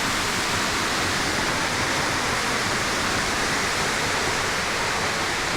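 Spruce Flats Falls roars as a constant, dense wash of falling water, loud and close, with no breaks or voices.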